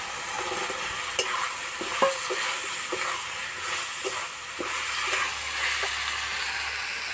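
Fried potatoes stirred into a cooked-down spice masala in oil for echor kalia, a steady close sizzle with a few sharp spatula scrapes and knocks at irregular intervals, no speech.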